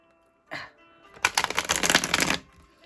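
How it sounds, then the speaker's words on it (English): A deck of tarot cards is shuffled close up, with a brief riffle followed by a longer rapid flutter of bent cards, quiet and without talk. "in order to get my fingers in the right place to shuffle, I do have to bend the card first"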